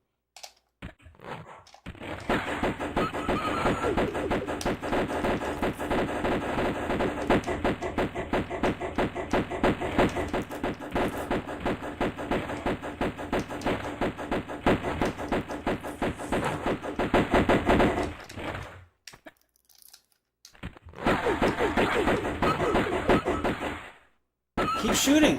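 Rapid, steady gunfire from Tomb Raider on the Sega Saturn, a continuous rattle of repeated shots with brief breaks, loud and dense throughout.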